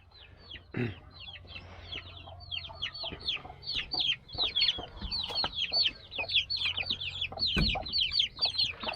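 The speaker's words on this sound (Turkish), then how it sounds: "şu civcivlerimiz de bağırıyorlar." A flock of chicks peeping and cheeping rapidly and continuously, fairly close, with a couple of lower thumps in between.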